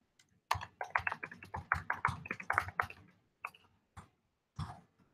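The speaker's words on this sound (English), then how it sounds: "Oh yes, typing." Keys clack on a keyboard in irregular quick bursts, fairly close, with brief pauses between runs and a few isolated presses at the end.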